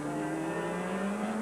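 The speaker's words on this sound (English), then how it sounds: "coming into the pits, the number 67 BM Goodrich entry with smoke coming out the back end of that car" A 1990 IMSA race car at Heartland Park, the number 67 BF Goodrich entry trailing smoke, drones steadily as it comes into the pits, a sustained engine tone holding at fairly constant loudness with no talk.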